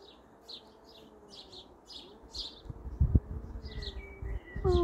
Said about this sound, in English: look at these baby birds